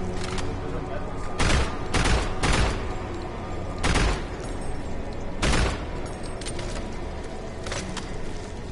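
Bursts of gunfire in Doom 3 VR ring out in several separate volleys over steady background game noise, each loud and short, spaced a second or two apart.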